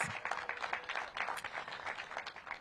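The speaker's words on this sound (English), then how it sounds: "Give them all a big round of applause." Applause from a crowd at a ceremony opening a permanent supportive housing building, steady dense clapping throughout, moderately loud and continuous.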